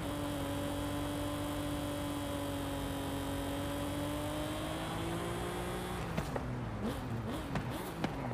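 Pontiac GTO in the racing game Forza Horizon 5 holds a steady engine drone with a rising pitch, then revs and shifts near the end, its tone bending up and down.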